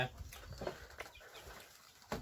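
Chickens cluck and squawk in short, scattered bursts at a rural home, fairly faint, with some rustling and flapping between the calls and no speech.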